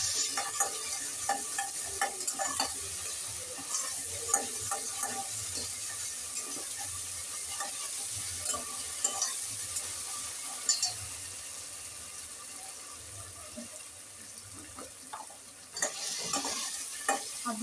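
Ginger garlic paste sizzling in a pan with reddened tomatoes for a chicken curry, with a steady fry hiss and repeated scraping stir strokes throughout, close and moderately loud, no talk.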